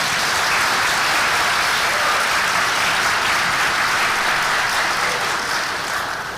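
Sustained applause from a dinner crowd honoring donors and students at a scholarship dinner, steady and dense throughout, tapering slightly at the end.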